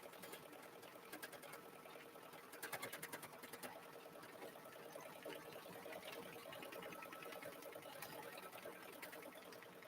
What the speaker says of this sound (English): I'm going to go ahead and turn this machine on over here because we're just going to stitch